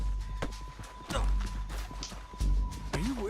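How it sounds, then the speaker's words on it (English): Horse hooves clop and pound in Red Dead Redemption 2, a quick uneven run of close, loud beats under shouting voices. "Get him on your horse."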